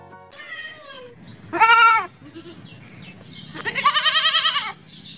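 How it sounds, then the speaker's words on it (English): A goat bleats three times: a short call, then a louder wavering one, then a longer, shakier bleat, each close and clear with quiet gaps between. "G for goat."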